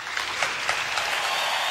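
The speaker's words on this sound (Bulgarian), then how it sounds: "Аплодисменти за рап терминаторите от Хасково, Христо и Станислав." Applause from a studio audience welcoming two rappers from Haskovo onto a live television show, a steady continuous wash of clapping throughout with a few sharper claps standing out, no speech.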